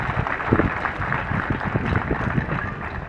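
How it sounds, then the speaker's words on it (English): Brief burst of clapping from a school gathering honouring the school's new toilet blocks, close and uneven with dense overlapping hand claps and faint voices mixed in. "Please clap for this school."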